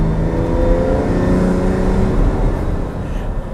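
Ferrari GT engine heard from the driver's seat while driving, its intake drone loud and close, a steady rumbling tone with rising harmonics that holds and then eases slightly at the end.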